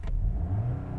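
VW Golf GTI engines rev hard against their soft limiters in a loud, low, throbbing burst that lasts about a second, heard up close.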